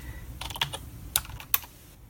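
Keys tapped on a computer keyboard while a password is entered at a Linux login screen: a short burst of several quiet, irregular clicks, two slightly sharper strokes standing out, close and alone.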